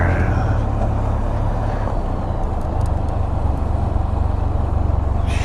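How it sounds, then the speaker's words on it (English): Distant freeway traffic up above an old boat ramp gives a steady, continuous low roar throughout, with a brief higher noise near the end. "Listen to the roar of that freeway up there."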